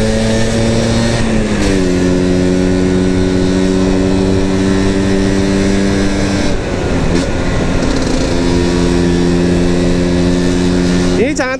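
A Vespa scooter with a custom embedded-intake engine hums steadily on a test ride in fourth gear at light throttle. Its pitch shifts slightly with each throttle change, and it revs up sharply at the very end.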